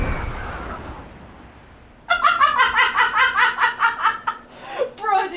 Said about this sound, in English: you ever seen a toucan fired out of a cannon?